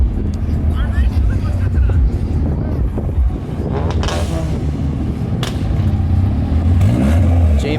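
A Mazda Miata rolls into a car meet, its engine rumbling close by among other cars, with people talking over the steady mechanical noise.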